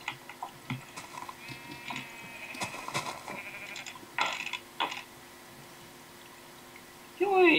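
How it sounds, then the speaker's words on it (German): A sheep bleating in the Minecraft video game, with a few short wavering bleats mixed among clicks and game effects, a louder bleat closing it out, and someone talking over parts of it. "Tötet das Schaf!"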